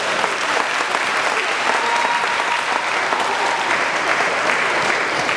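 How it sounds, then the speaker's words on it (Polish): Ballroom audience gives sustained applause after a rumba at a senior dance gala in Gliwice, a dense, even wash of clapping from a full hall that holds steady throughout. "Raz jeszcze poproszę o klaski za tę rumbę"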